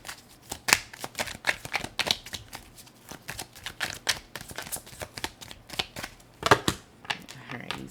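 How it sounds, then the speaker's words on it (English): A Kawaii Tarot card deck being shuffled, the cards riffling, slapping and flopping in quick irregular bursts close to the listener for several seconds, with faint talk in places. "These cards are just flipping and flopping everywhere"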